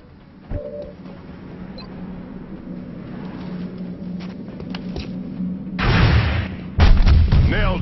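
Gunfire and blasts from the XCOM video game during a multiplayer match, a sharp crack early on then heavier booming bursts near the end, over a steady low background hum.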